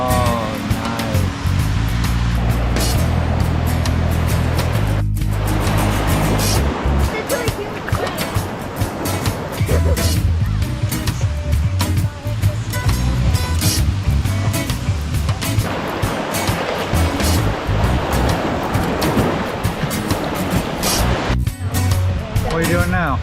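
Ocean waves at a beach produce a loud, continuous roar of surf and rushing water across the whole stretch, with people talking beneath the steady wash.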